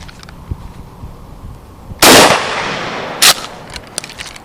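A Remington 870 shotgun fired at a target 15 yards away gives one sharp, loud blast midway, then a second shorter burst, with quiet outdoor ambience before and after.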